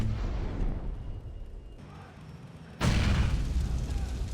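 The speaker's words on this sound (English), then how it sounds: "He hands Johnny a grenade launcher, wanting him to fire an explosive through the window, so I use Billy's head to ricochet the grenade through the window." Grenade launcher explosion in a GTA video game: a sudden loud boom that hits hard, then a sustained roaring rumble after the blast, with background noise before the hit.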